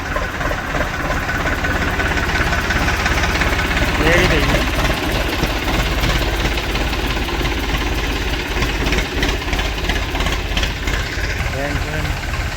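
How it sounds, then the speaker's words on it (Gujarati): A heavy diesel tractor engine chugs steadily and loudly throughout as the tractor sets off, its knocking rhythm constant, with a person speaking briefly over it. "ટ્રેક્ટર રવાના થઈ રહ્યું છે"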